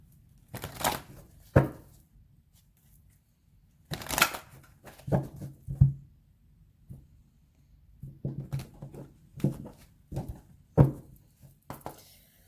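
Tarot cards being shuffled by hand in several short bursts of riffling and snapping, separated by quiet pauses, close and fairly soft.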